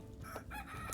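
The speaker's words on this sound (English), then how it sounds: "we have a young rooster and an old rooster." Rooster crowing in the video game Clanfolk, with a young and an old rooster among the chickens: a single brief, faint crow, heard alone.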